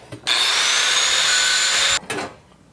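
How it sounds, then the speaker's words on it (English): An angle grinder cuts off a weld on a homemade steel firebox camp stove, a loud, sustained high whine that starts abruptly, runs for under two seconds, then cuts out and spins down, with a brief scrape after. "I'm gonna go ahead and grind off this weld down here."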